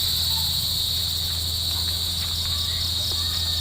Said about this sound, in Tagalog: Mga kuliglig ang maririnig.